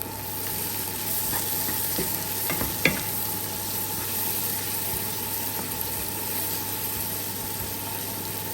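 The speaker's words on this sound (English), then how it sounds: "Now add the onion and salt and let it cook for a bit until soft." Onion and salt fry in a pan for an Indian vegetarian chilli paneer, giving a steady close sizzle with a few brief stirring scrapes over a constant low electrical hum.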